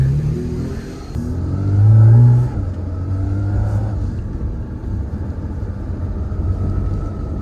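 A Porsche GT4 RS launches and accelerates, its engine note rising through the gears with a deep, steady rumble heard from inside the car, a brief swell early on and no talk over it.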